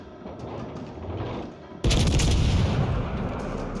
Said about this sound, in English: Give me that juicy Minnesota broadside.